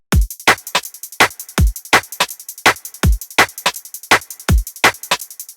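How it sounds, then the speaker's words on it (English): A tight electronic drum groove with punchy kicks and crisp snares and hats, played at a steady mid tempo with a clean, spacious feel. "So the drum groove now sounds like this."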